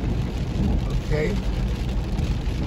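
Heavy hurricane rain pours down in a steady, dense wash around a car being driven through the storm, with a brief spoken word over it.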